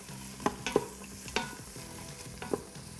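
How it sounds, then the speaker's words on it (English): Onion and celery sautéing in an Instant Pot, stirred with a utensil: a steady soft sizzle runs throughout, broken by four or five sharp scraping knocks against the pot at irregular intervals, close and fairly quiet. "you're just gonna stir that around a little bit"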